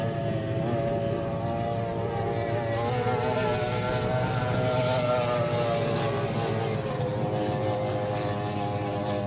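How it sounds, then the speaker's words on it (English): A two-stroke racing powerboat engine with big racing props warming up at Dargle, giving a steady, loud, buzzing drone with a rich harmonic whine that holds throughout, with no talk. "There's nothing like warming an engine up at full bottle, but that's the joy of owning a two-stroke."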